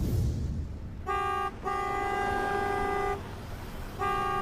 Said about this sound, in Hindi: एक कार वाला उसे बहुत देर से हॉर्न पे हॉर्न दिए जा रहा था।